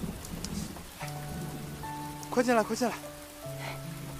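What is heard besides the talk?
rain falling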